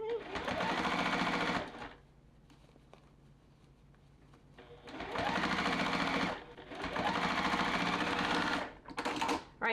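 Sewing machine stitching rag quilt seams with back stitching, loud steady whirring runs broken by a quieter pause, then two long bursts and short stops near the end, close to the machine; a voice speaks faintly during the pause.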